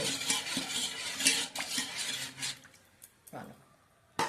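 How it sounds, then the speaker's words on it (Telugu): Panakam, a jaggery drink, being stirred in a new metal vessel with a spoon: repeated clinks and scraping of utensil on metal, close and fairly loud, thinning out toward the end with a final sharp clink. "మంచిగా బెల్లం కరిగేటట్టు కలపాలి"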